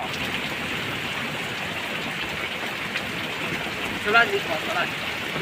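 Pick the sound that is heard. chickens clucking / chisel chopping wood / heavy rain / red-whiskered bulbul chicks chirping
heavy rain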